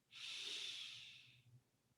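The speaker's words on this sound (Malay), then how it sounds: "Ambil nafas dengan betul teknik." A single steady inhale drawn in through the nose during Quran recitation breathing practice, a soft airy hiss lasting over a second, close and quiet, fading into faint background murmur.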